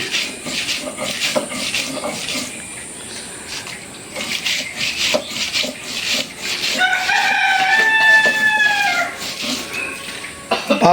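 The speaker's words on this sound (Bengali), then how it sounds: "সন্ত্রাসী মোরগের অবস্থাটা কি ডাক পার্তাই আছে" A rooster crows once at moderate distance over a busy kitchen backdrop of rubbing and grinding, the drawn-out call rising and falling for a couple of seconds.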